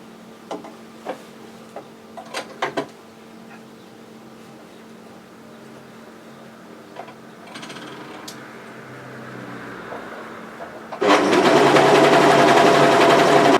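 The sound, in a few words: sewing machine overlocking a raw edge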